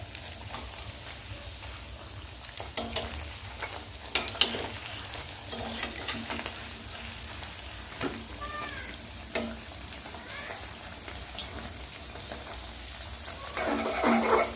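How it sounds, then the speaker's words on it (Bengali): Fritters made from leafy greens fry in a pan with a quiet, continuous sizzle, broken by occasional clinks and stirring knocks, rising a little louder near the end. "আবার দেওয়া হয়েছে, এগুলো ভাজা হচ্ছে।"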